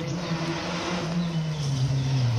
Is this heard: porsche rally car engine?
yes